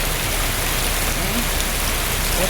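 Dense, steady downpour at an auto stand in Cherukolpuzha, a constant close hiss of heavy rain striking surfaces, with a faint tonal murmur beneath and no audible thunder.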